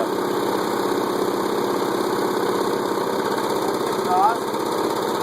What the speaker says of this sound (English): Vaporizing gas can totally run an engine.